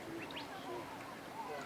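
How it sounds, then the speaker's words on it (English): Birds in Arizona calling softly over a steady outdoor hiss, with thin chirps and a few brief whistled notes that stay faint and distant. "These are some weird birds, too."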